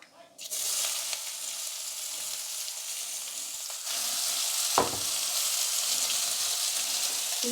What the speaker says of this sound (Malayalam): വെളിച്ചെണ്ണ ഒഴിച്ചു. കടുകിട്ടു.